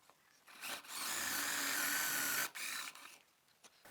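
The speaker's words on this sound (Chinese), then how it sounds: "接下来就可以给它钻孔了。" An electric drill bores a pocket hole into a wooden board clamped in an all-metal pocket hole jig. It makes one loud, steady whir of about one and a half seconds, heard alone, with quiet handling noise before and after.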